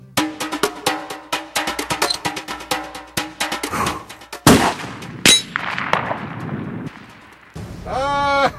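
Long-range rifle fire at an outdoor range: a sharp report rings out midway through, with metallic clanging and ringing tones before and after.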